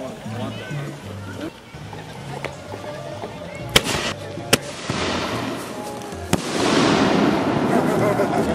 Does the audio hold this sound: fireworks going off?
yes